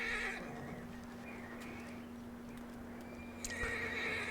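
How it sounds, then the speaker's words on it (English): A distressed horse in the video game Red Dead Redemption II neighs and whinnies loudly at the start and again near the end, with clip-clopping hooves and shuffling in between. "Now this horse, understandably distressed."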